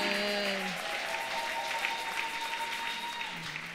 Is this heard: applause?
yes